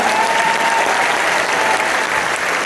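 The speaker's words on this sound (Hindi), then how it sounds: "इसी बात पर तालियां बजा दीजिए आप सभी को" Dense, steady applause from a large audience at a family gathering of core leaders, loud and continuous throughout with a faint sustained tone running under it.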